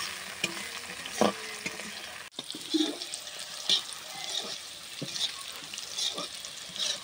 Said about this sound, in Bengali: এইভাবে সিমগুলো ভেজে নিতে হবে